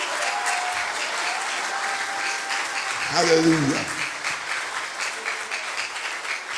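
A congregation at a revival service claps hands steadily in a dense, sustained burst of applause, with voices singing and calling out over the clapping throughout.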